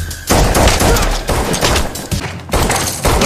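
Gunfire from the film John Wick Chapter 2, set in underground catacombs: loud rapid bursts of shots with thuds, several sustained volleys separated by brief gaps.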